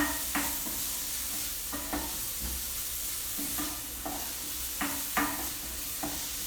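Salted onion sautéing in a pan, a steady broadband sizzle with several sharp utensil scrapes and stirring clicks scattered through it, close and fairly quiet.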